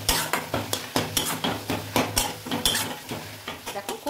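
A spoon scrapes rhythmically through a tomato masala with cumin and coriander powder frying in a pan, each stroke clattering against the metal over a constant close sizzle.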